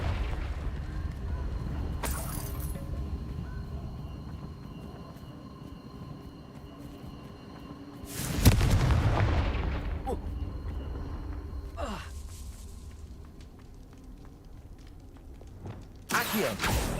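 Confringo fire-spell blasts in the video game Hogwarts Legacy: a loud explosive burst lands mid-clip, followed by sharper bursts near the end, over a steady low game rumble while a voice talks.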